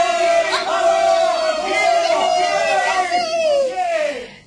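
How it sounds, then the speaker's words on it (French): A crowd shouts together in one loud, sustained cry that swells and slowly falls away, celebrating after firefighters stop a fire before it reaches the neighborhood houses. "La foule crie."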